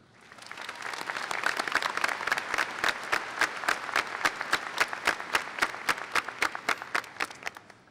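Audience at a high school graduation ceremony breaks into sustained clapping that swells quickly and holds steady, with individual claps sharpening toward the end.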